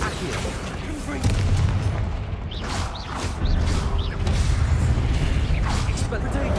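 Confringo spell blasts in the Hogwarts Legacy video game, several booming impacts and crackling bursts arriving in quick succession amid game effects, with a voice calling out spells over the noise.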